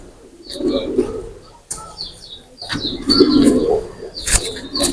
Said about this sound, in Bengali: এটা হলো নেপালি পিওর নেপালি চোখলুদ কবুতার